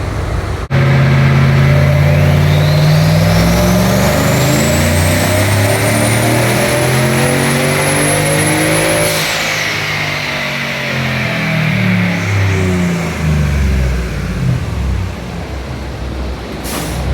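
A turbocharged Chevrolet Suburban engine revs hard and loud through a cold dyno pull, climbing steadily in pitch with a rising turbo whistle before easing off and settling to a lower drone.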